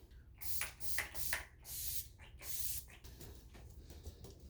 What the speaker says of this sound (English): So I'm gonna pick up the NYX Bear With Me setting spray.